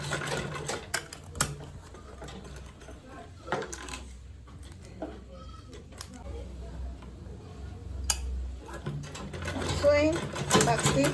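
A sewing machine back stitches a zippered makeup bag with lining, giving short bursts of rapid mechanical ticking interrupted by pauses, while a person talks over the work throughout.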